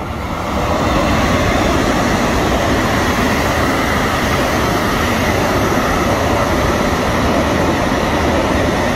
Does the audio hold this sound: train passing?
yes